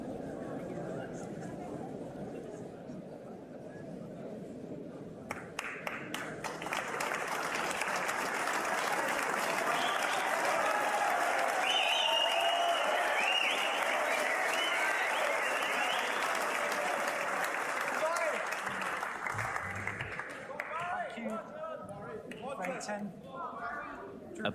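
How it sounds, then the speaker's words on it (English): A raucous, packed crowd at the Waterfront Hall in Belfast bursts into loud, sustained applause and cheering at a snooker semi-final, swelling after a quieter start and holding for many seconds before tapering, with crowd chatter mixed in. "A big cheer from this raucous and packed crowd at the Waterfront Hall"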